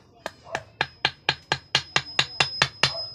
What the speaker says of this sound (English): hammer the wood.